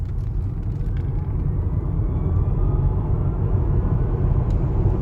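Tesla Model S accelerating hard up to 65 mph, a steady, loud low rumble of road and wind noise that builds evenly throughout with no engine note and no voices.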